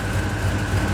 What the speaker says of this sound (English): that's the truck running